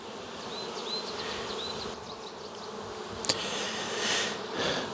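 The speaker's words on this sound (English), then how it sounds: "So these foragers are rather confused and lost." Honeybee foragers buzz around hives outdoors: a steady, close swarm hum with individual bees whining past, a faint bird call, and a brief click.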